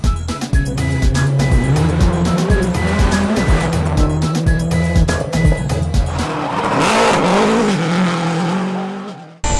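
Rally cars race hard through a stage at Rally Barbados 2011, loud engines revving and changing gear close by, with tires squealing and skidding and a roaring pass that sweeps through near the end.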